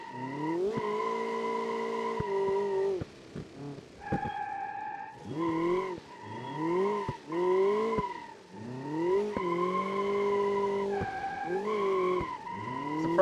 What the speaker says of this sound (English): Now want to drift there, using all of the boost.